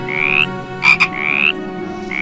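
A frog croaks in loud, close rising calls, two long drawn-out croaks with a pair of short sharp notes between them, followed by the start of another, alone with no talk.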